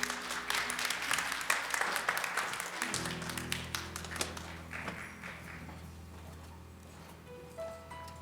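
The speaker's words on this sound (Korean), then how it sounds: "박수 부탁드리겠습니다" Audience applause at the DEF 2018 conference session, dense clapping that fills the room for a few seconds, then thins out into scattered claps and fades.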